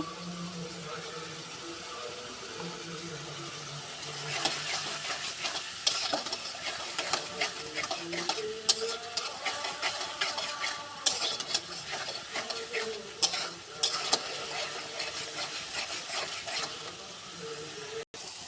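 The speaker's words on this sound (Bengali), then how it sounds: "মশলাটা ভালো করে কষিয়ে নিচ্ছি" Spice paste (masala) frying and being stirred in a pan while preparing lote fish, with steady sizzling and a spoon scraping the pan again and again, close and continuous, the scraping strongest in bursts through the middle.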